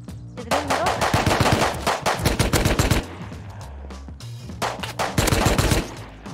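Automatic gunfire in the survival game Rust crackles in two rapid, loud bursts of rattling shots separated by a short lull.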